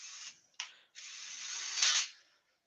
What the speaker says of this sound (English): So we're going to use the power sander.